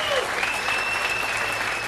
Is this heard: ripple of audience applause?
yes